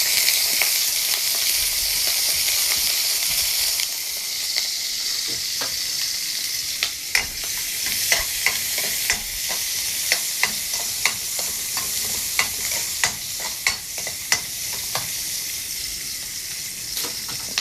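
Ginger, garlic and onion sizzle in hot oil while a utensil stirs and scrapes the pan, giving sharp clacks at an irregular pace that grow more frequent over the sizzle; close up, no one talking.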